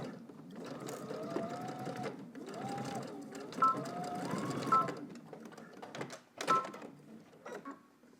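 A sewing machine stitches a polo shirt collar in several short, uneven runs with pauses, the motor whirring up and down between bursts, close and fairly quiet with small clicks.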